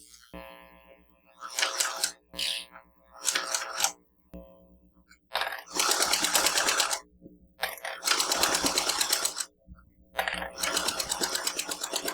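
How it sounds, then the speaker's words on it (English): A sewing machine stitches raffia fabric with a lining attached, running in several loud close bursts of rapid mechanical clatter separated by short pauses. "Now I'm going to sew this same type with a lining attached to see how that would look."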